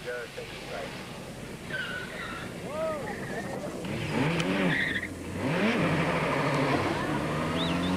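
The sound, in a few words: rally car arriving during the Total Rally 1990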